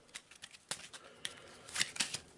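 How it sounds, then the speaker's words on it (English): Deck of Eldritch Horror board game cards being shuffled and cut on a table, a quick run of crisp riffling snaps and flicks, close and fairly quiet, with no talk. "So we'll give it a shuffle and a cut."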